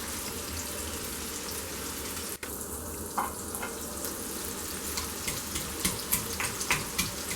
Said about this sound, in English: While the onions are being fried, we will crush the ginger and garlic.